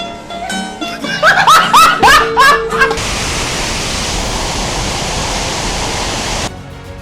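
Seljalandsfoss waterfall in South Iceland roars as a steady broadband rush filling the second half, preceded by bursts of voices and laughter.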